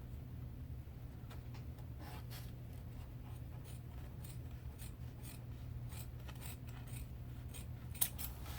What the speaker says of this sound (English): I'm just going to cut it down to the size it needs to be